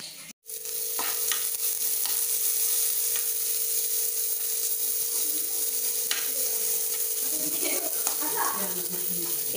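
Chopped onions frying in a pan, a steady close sizzle with stirring scrapes and brief clinks, a faint voice in the background.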